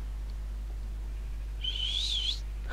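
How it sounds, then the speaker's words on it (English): A short, clear whistle rises and wavers in pitch for under a second over a steady low hum, heard alone with no talking, in the middle of building a farmer's house in a game. "Little whistle there."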